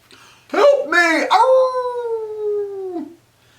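A wolf howl, loud and close, rising from a couple of short yelps into one long sustained tone that slowly falls and fades away; it may be a voice imitating a wolf.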